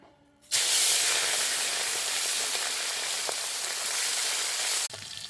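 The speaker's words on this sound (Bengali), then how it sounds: "তেলটা গরম হয়ে গেছে, আমি নুন হলুদ মাখিয়ে রেখে দিয়েছিলাম। এখন আমি মাছটা দিয়ে দেবো।" Kulfi tengra fish, salted and smeared with turmeric, drops into hot oil in a wok and sets off a sudden loud burst of hissing sizzle that holds steady, then cuts off abruptly near the end.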